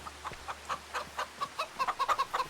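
Chickens cluck in a quick, steady series of short clucks in the video game Farming Simulator 25, close and moderately loud, with no voices.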